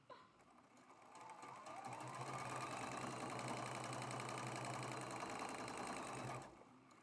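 A sewing machine runs steadily for about five seconds, stitching pieced quilt blocks together for a traditional star quilt, with a close, even mechanical whir that starts up and then stops.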